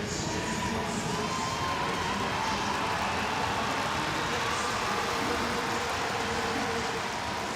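A big arena crowd roars without a break during a women's track cycling sprint at the Glasgow 2018 championships, a dense, even wall of cheering that holds for the whole stretch.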